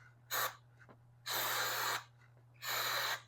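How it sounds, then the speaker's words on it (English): Cleaner is sprayed from an aerosol can onto the chain of a 2005 Yamaha R6 motorcycle during maintenance, giving three hissing bursts, one short and two longer, close by with a low steady hum beneath. "I'm going to try to spray it away from the wheel."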